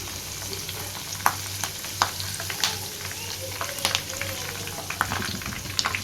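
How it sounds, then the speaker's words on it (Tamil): Curry leaves fry in hot oil for restaurant-style chicken 65, giving a steady close sizzle with scattered pops and crackles. "இப்போ இதில் கொஞ்சமாக கருவேப்பிலையை சேர்த்து பொரிச்சு எடுத்துக்கலாம்"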